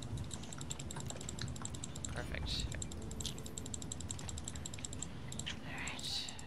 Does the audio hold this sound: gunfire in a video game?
no